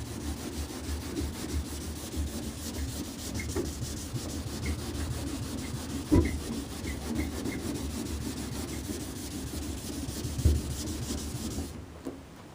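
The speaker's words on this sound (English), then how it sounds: "Just want to start sanding lightly." Steady scrubbing of wet sanding by hand on a car's clear coat, a continuous back-and-forth rubbing with a couple of sharper scrapes, close and moderately loud, no talking.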